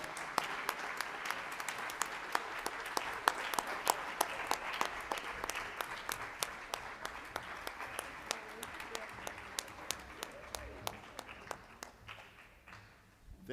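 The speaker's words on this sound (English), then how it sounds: "Let's give them a round of applause." A room at a school board of education meeting breaks into a steady round of applause and a standing ovation, sustained clapping that runs for about twelve seconds before fading out.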